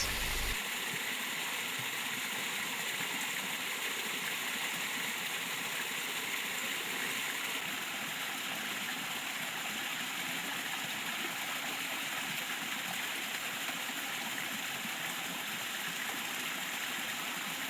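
Stream water flows steadily at Idanre Hills in Nigeria, a continuous broadband rush that stays fairly faint and even, with no voices.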